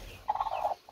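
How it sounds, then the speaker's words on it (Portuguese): A brooding hen sitting on an egg in a nest gives a single short, close, moderately loud clucking call in the middle of the moment, with quiet surroundings and no talking. "Já tem até um galinha ali"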